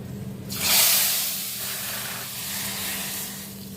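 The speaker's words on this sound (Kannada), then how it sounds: "ಒಗ್ಗರಣೆ ರೆಡಿ ಆಯಿತು. ಸಾಂಬಾರ್ಗೆ ಹಾಕ್ಬಿಡೋಣ ಇದನ್ನು." A hot tempering of mustard, cumin, curry leaves and asafoetida in oil is poured into a spinach dal sambar, making a loud sudden hiss that swells and then settles into a softer sizzle, close by.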